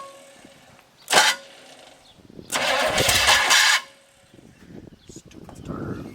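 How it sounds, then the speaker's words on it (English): The starter of a 1935 Ford, parked for over 30 years, cranks the engine in two bursts, a short one then a longer grinding whir, with quiet pauses and faint background noise between. "it's just the starter"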